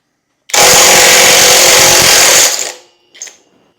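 A SeeSii WH750 compact 1/2-inch high-torque impact wrench on a Milwaukee socket hammers loudly for about two seconds as it breaks a nut loose, winds down, then gives one brief short burst.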